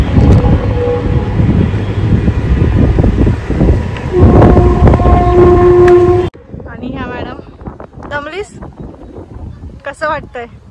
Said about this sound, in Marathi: इथून दुसरी ट्रेन येते.